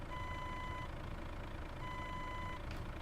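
Reversing beeps from a Renault Magnum Integral truck in Euro Truck Simulator 2 sound as steady, evenly spaced electronic tones over a low engine hum, with no talk.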